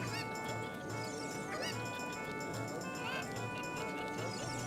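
A dog in Zelda: Ocarina of Time gives several short barks and yips over steady game music, fairly faint in the mix.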